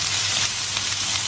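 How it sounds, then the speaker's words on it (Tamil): Chopped onions sautéing in a pan for potato masala, a steady broadband sizzle held close and continuous for the whole short stretch, with no voices. "ஸோ இப்போ இந்த வெங்காயத்தை வந்து ஒரு 2 நிமிஷம் வதக்கி விடலாம்."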